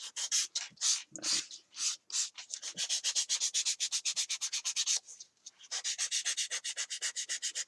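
Sandpaper is rubbed by hand across the edge of a plastic toy pirate sword in quick, steady, close scratchy strokes that continue almost without a break.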